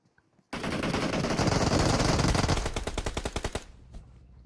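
Sustained automatic gunfire in PUBG Mobile during a competitive match, a loud continuous burst that breaks into distinct rapid single shots toward the end, with no talk over it.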